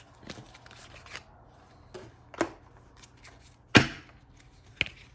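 An Angel Prayers oracle card deck is shuffled by hand in a few separate, crisp bursts of riffling and slapping cards. Quiet pauses fall between the bursts.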